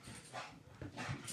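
An excited female dog licks and snuffles right at a microphone, with close wet mouth noises and soft whimpering bursts filling the short span at fairly quiet level.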